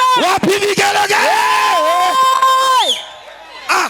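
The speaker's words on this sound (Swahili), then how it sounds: "Wapi vigelegele?" A church congregation ululates loudly and close, with long wavering high trills rising and falling in pitch among crowd voices and cheering, then cutting off abruptly, followed by a brief burst near the end.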